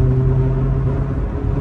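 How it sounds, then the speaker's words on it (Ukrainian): A Renault Laguna 2 at high revs, its engine skid plate vibrating, gives a loud continuous in-cabin drone with a steady low hum and rumbling buzz, with no talk. "Оце звук защити, щоб ви розуміли."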